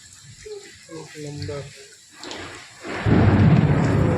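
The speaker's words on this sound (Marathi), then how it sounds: "पावसाचा आवाज येईल गडगड गडगड" Heavy rain pours outdoors with a deep rumble of thunder, first faint beneath a voice talking, then swelling into a loud, steady downpour roar for the final second or so.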